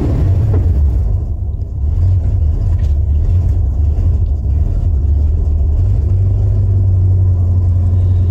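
A 1991 Ford F-150 engine gets a quick throttle blip, rumbling up and then dropping back to an uneven idle that hunts up and down, loud and close with steady low drone.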